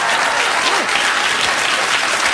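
A television studio audience at the Late Late Show with Craig Ferguson breaks into dense, loud, continuous applause, many hands clapping close together with no voice over it.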